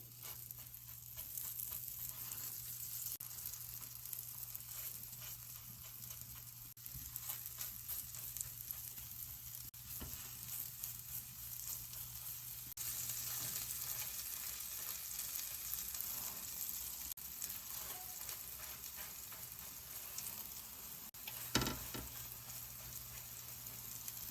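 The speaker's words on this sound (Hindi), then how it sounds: "मैंने किसी में भी डिप नहीं किया है, मैं इसको ऐसे ही तल रही हूँ।" Undipped kabab patties frying on a hot tawa give a steady, even sizzle with faint crackle throughout, fairly quiet and close with no one speaking.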